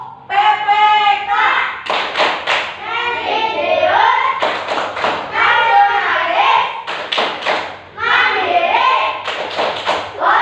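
A group of children clap a rhythmic pattern while chanting together in a classroom cheer for character education, with taps and claps cutting through the loud unison voices.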